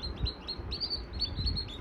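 Newly hatched baby chicks peep in a steady run of high, thin chirps, repeating close by over a low background rumble; no one speaks.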